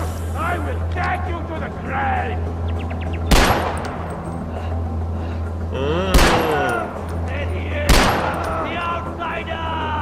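Pistol shots in Far Cry 4, three sharp loud cracks spaced a few seconds apart over a steady engine-like hum, with a voice talking at times.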